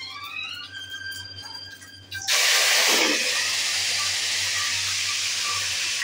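Curry leaves hit hot oil with cumin seeds, setting off a sudden loud, hissing sizzle after a quieter stretch, then a steady crackling fry that continues to the end.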